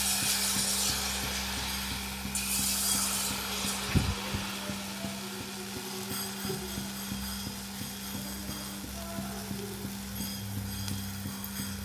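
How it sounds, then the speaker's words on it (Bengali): Jalebi batter frying in plenty of oil in a kadai, a steady broadband sizzle that holds for the whole stretch with a low steady hum beneath and one sharp knock near the start, no voices. "জিলিপি ভাজার জন্য আমি কড়াতে অনেকটা তেল দিয়ে দিয়েছি"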